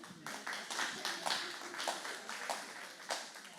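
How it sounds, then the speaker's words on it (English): A small audience at a community meeting on a proposed 765-kV transmission line claps for Kevin, scattered, distinct handclaps with a loose uneven rhythm, fairly quiet and sparse. "So just a round of applause for Kevin"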